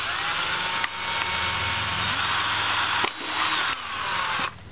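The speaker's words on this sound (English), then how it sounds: "you're going to want to drill one right in front of this hole." Power drill boring holes in a homemade crayfish trap, a continuous whining motor run broken by brief pauses and restarts, close and loud with no talk.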